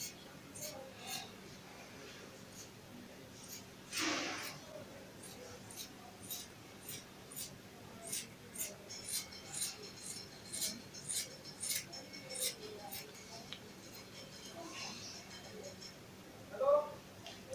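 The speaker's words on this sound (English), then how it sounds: "now I'm going to cut my sketch out" Scissors snip out a paper sketch for a turtleneck gown pattern: a quick run of sharp, close clicks and crisp cuts, with a voice talking quietly between them.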